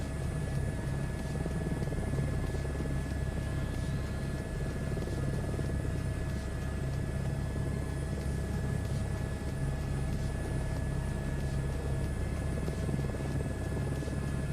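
A Chinook helicopter flown in Microsoft Flight Simulator 2024 gives a steady, loud rotor and engine drone with a deep pulsing thump, continuous and unbroken from start to finish with no talk over it.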